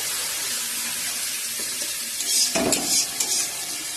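Garlic paste dropped into hot oil in a pan where bhetki fish is frying, giving a steady loud sizzle that swells into a sharper burst of crackling partway through.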